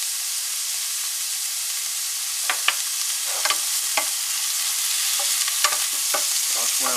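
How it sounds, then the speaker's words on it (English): Oyster mushrooms browning in hot olive oil in a pan, giving a steady sizzle and hiss with scattered crackles and pops, stirred and tossed now and then, close and alone with no talking. "we're going to add in our oyster mushrooms. Want the pan nice and hot when you do this."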